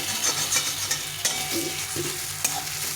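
Mashed taro frying in a pan, a constant sizzle broken by several spatula scrapes and taps against the pan, close and without talk.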